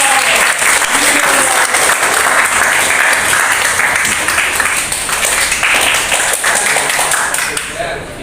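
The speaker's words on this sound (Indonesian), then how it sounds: "tepuk tangannya buat" A classroom or hall audience at an Indonesian civics session applauds loudly and continuously, with dense clapping that tapers slightly toward the end.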